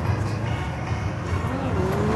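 Noisy Nissan Skyline cars in Tokyo, a steady engine roar with a passing rising tone, fairly distant and continuous, with faint voices in the background.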